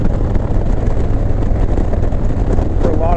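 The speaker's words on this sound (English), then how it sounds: "so the wind picked up" Strong wind on the California coast in summer buffets the microphone, giving a loud, continuous low rumble that fills the whole stretch.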